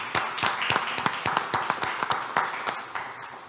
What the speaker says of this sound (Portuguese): Aplausos para vocês, meus queridos.